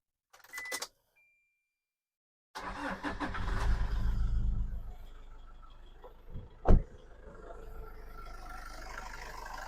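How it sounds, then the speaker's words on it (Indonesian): A stock 2015 Toyota Innova automatic's 2KD diesel engine turns over and settles into a steady idle, with a loud surge after starting and a sharp knock midway, heard close up without talk. "Tak kasih lihat suara mesinnya"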